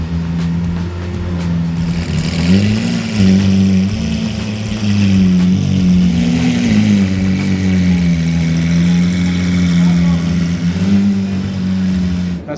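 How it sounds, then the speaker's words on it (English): A Lamborghini Urus engine runs steadily at close range, its low rumble holding through the clip with a couple of brief rises in pitch like light revs. "as soon as we're about to fire up a car"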